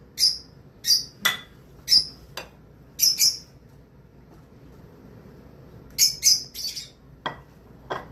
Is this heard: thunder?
no